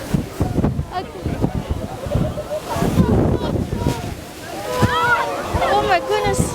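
Strong rushing water and blustery wind at Milford Sound, a loud, close roar of spray and wind buffeting the microphone, under excited talking from people nearby.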